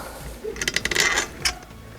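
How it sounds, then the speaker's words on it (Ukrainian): A Maxxter electric scooter's brake is adjusted by hand, giving a quick burst of small metallic ratchet clicks followed by one more click, close and fairly quiet. "Регулюємо тормоз. Просто так вручну підкручуємо."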